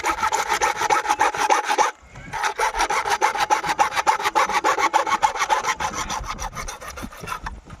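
A hand saw cutting through PVC water pipe with fast, steady back-and-forth rasping strokes, close and loud, with a brief pause near the start before the sawing resumes and continues to the end.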